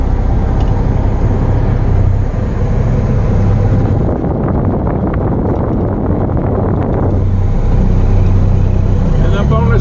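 A Peterbilt rock hauling truck rumbles loudly and steadily as it climbs up onto a scale, a dense low engine drone with wind buffeting the microphone and no speech.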